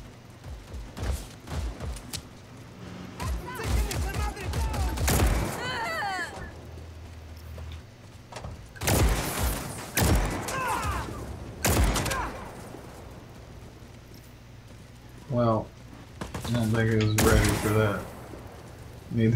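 Gunfire in the Just Cause video game, bursts of rapid shots arriving in clusters between stretches of talking and laughing voices, fairly loud and overlapping the speech.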